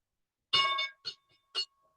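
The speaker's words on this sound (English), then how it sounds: "And there's the bell." Stock market opening bell ringing in a live trading room, a few sharp metallic rings: one long strike followed by shorter repeated clangs, clear and alone.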